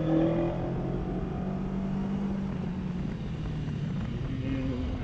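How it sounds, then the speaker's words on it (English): An Aprilia Tuono motorcycle pulls along a mountain road in a low gear, its engine droning steadily and fairly loud, with a rising tone under wind rush. "I keep the wrong gear on, like second gear, and just open the gas and somehow it goes."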